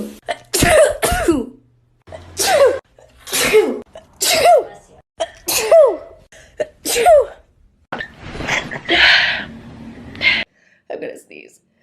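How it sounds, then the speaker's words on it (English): A celebrity sneezing in a series of sharp bursts, about six explosive sneezes in a row with gasps between, followed by laughter and excited talking, close and loud. "I'm gonna sneeze"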